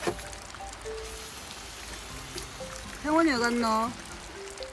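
Rain keeps up a steady hiss through a family's rainy-day morning at home. Voices talk over it near the start, and a voice rises loudly near the end.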